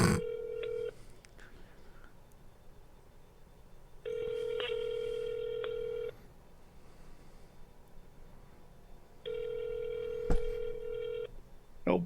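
A telephone call goes unanswered: a short burst of dialing tones, then repeated ringback tones in evenly spaced long pulses with quiet gaps between, clear and alone.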